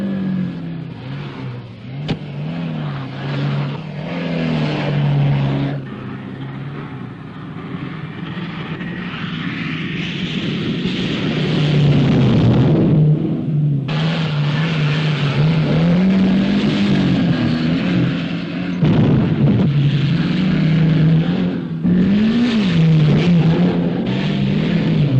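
A stock Volvo 140 engine revs up and down repeatedly, loud and close, with steady droning pitch swings and no talk.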